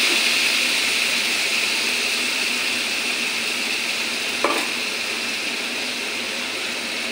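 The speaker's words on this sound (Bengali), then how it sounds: "মশলাটা ভালো করে কষে নিই।" Masala spice paste sautés in a pan with a steady, even sizzle that runs throughout, and a single brief clink near the middle.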